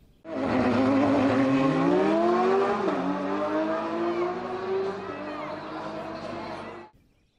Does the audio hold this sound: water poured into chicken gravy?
no